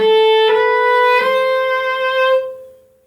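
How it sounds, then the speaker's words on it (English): A few clear, ringing string harmonics, each bright tone struck and left to sustain, fading out gently at the end. "The next part is A harmonic"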